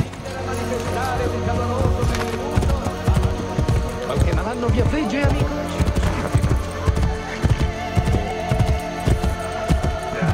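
Horse hooves galloping in Assassin's Creed Brotherhood, a steady clip-clop rhythm running through the whole stretch over dense game music and ambience.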